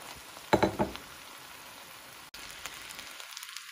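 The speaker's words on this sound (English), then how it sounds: "Now we're going to transfer our vegetables that we cooked prior back and incorporate it all together" Turkey and previously cooked vegetables sizzle together in one pan for a one-pan turkey dinner, a soft steady crackle with a brief cluster of louder scraping as the food is mixed.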